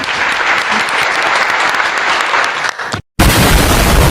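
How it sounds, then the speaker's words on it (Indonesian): An audience at an Indonesian Islamic santri podcast applauds with loud, dense, sustained clapping that briefly cuts out before resuming. "tepuk tangan"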